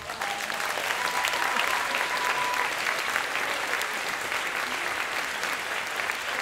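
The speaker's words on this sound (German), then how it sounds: "holt sich jetzt von euch einen deftigen Applaus ab" Dense, steady audience applause fills a poetry slam venue as slammer Thomas Schmidt takes the stage, continuous and fairly loud with a faint whistle early on.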